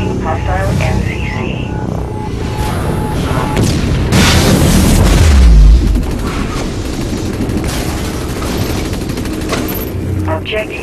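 Loud booming blasts and rapid bursts of synthetic weapon fire from a null cannon in a video game, with a heavy low rumble peaking midway and a voice speaking over the din.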